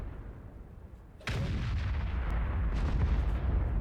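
A tank main gun fires in World of Tanks with one sudden heavy boom and a long rumbling tail, breaking abruptly through quieter engine hum and ringing on close and loud.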